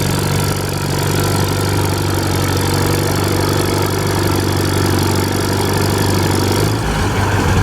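A Minneapolis-Moline 44 tractor's big four-cylinder gasoline engine of about 259 cubic inches at an antique tractor pull, a loud, steady, low rumbling drone that holds throughout and shifts slightly near the end.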